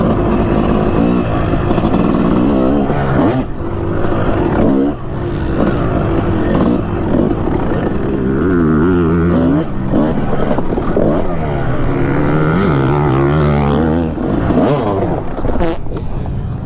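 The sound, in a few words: 2005 Kawasaki KX250 two-stroke dirt bike riding enduro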